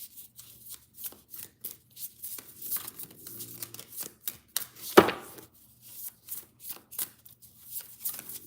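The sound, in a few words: shuffling tarot cards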